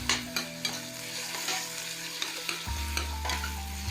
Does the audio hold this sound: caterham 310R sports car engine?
no